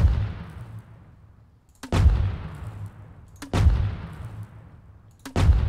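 Three heavy, booming grenade launcher shots in the video game Rust fire at slow, evenly spaced intervals, each followed by a long fading rumble.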